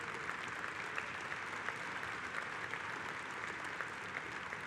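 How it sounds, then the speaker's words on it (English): Sustained applause from a large union convention audience fills the hall, dense and steady clapping with a faint crowd murmur underneath and no pauses. "Please give them a round of applause."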